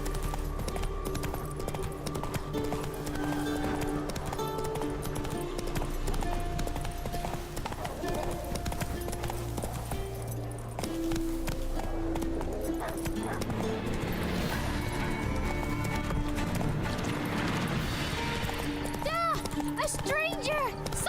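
Roach, the horse in The Witcher 3 video game, gallops with steady rhythmic hoofbeats over a continuous game soundscape, while voices talk intermittently throughout.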